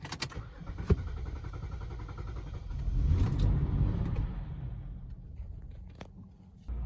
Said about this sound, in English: I'm gonna let the engine run and continue to run.